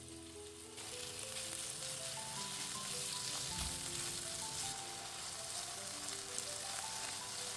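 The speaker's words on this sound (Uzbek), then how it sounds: "Ketidan ozgina tovuq lahm go'shtini solib, sellari ketguncha yaxshilab qovurib olamiz." Onion, garlic and chicken frying in oil in a pan, with a steady, dense sizzle that holds throughout and carries faint stirring noises. No voices.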